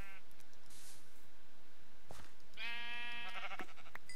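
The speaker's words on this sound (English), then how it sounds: "these sheep are all going to be dead." Sheep in Minecraft bleat twice, a short call near the start and a louder, longer one a couple of seconds later, over quiet game ambience at night.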